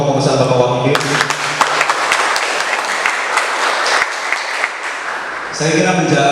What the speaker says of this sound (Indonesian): Tepuk tangan untuk kepengurusan Bapak Wahidin